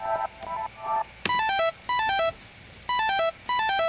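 Dry, bright synthesizer arpeggio from Ableton's Operator synth, quick plucky notes in short repeating bursts, with brief gaps between phrases and no echo, delay or reverb.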